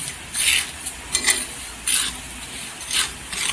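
Unpeeled garlic cloves roast on a bed of salt in a pan over low heat, stirred in short, gritty scraping bursts about every half second. The scraping sounds close and moderately loud, with no speech.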